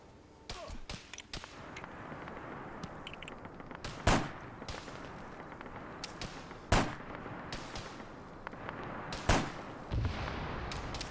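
Gunfire aimed at a .50 cal machine gun position: sharp single shots and heavier booming reports ring out at irregular intervals over a busy, noisy background, with faint talk underneath.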